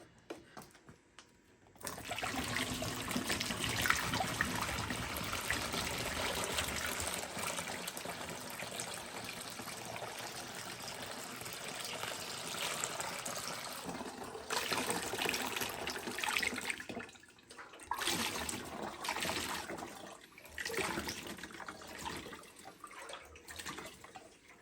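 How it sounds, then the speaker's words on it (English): Water mixed with baking soda pours out of a rusty 1978 Suzuki DR370 fuel tank in a steady, loud gushing stream for about fifteen seconds, then breaks into shorter bursts of splashing and trickling with brief pauses. "I just got done flushing it out with baking soda and water"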